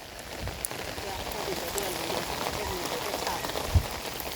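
Steady rain falls throughout in an outdoor rural setting, a dense even patter with occasional louder drops and a brief knock near the end, with no clear talk over it.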